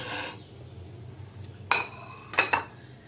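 A plate is picked up and set down while green chili pickle is being made. After a soft scrape, a few crisp clinks ring out, one single and then a quick double, close by with no talking.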